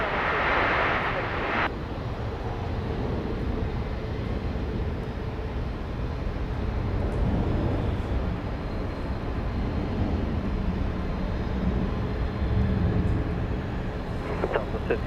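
A Southwest airliner lands at Dallas Love Field on a rainy morning. Its low, steady jet rumble and roar sit under continuous rain hiss, and tower radio chatter can be heard through most of the stretch.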